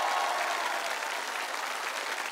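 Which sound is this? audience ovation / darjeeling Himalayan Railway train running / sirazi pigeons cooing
audience ovation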